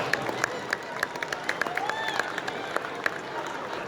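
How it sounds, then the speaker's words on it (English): Crowd applauding the vendors at a 2015 lamb show, a continuous wash of clapping with sharper individual claps standing out near the front, carrying on for a few seconds. "Let's give all these vendors a round of applause."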